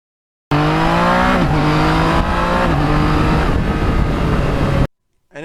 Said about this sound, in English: you have that beautiful, beautiful sound of that MT09 going through the gears